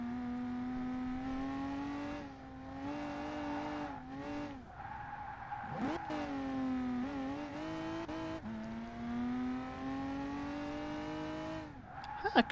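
A Cadillac CTS wagon drifts in GT Sport, its engine holding a steady high drone with rising and falling revs, broken by several squealing tire skids and gear shifts.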